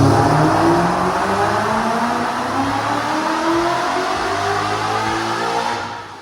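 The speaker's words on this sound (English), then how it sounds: "We're gonna have to try fifth because Ford just keeps hazing the tires on the dyno" A supercharged Ford Mustang roars on a dyno in fifth gear, its engine note rising steadily for about six seconds, loud and close with a whining drone, then easing off at the end.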